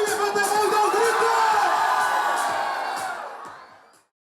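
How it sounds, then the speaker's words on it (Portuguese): A large crowd at a university event shouts and cheers loudly together, a sustained burst of whoops and yells that fades away over the last second. "Quem tá afim, levanta a mão e dá um grito!"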